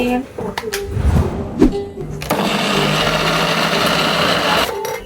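An electric mixer grinder whirs steadily as it grinds ingredients with half a tumbler of milk, a loud continuous buzzing motor that starts after some clattering and someone speaking.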